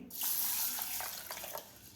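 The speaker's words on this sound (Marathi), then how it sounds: "आता आपल्याला हे दोन ते तीन पाण्याने व्यवस्थित स्वच्छ धुवून घ्यायचे आहे" Running water splashes and swishes over masoor lentils in a bowl, a steady bright rush with soft irregular sloshing, close by.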